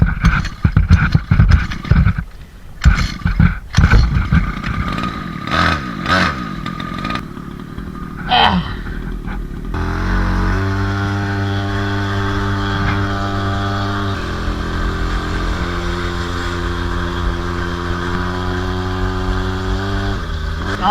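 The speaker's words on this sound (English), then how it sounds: "50cc on the scooter with the John Deere seat." A 50cc two-stroke engine fitted to a kids' Razor scooter with a John Deere seat runs loud and close, clattering and revving in bursts at first, then settling into a steady buzzing idle.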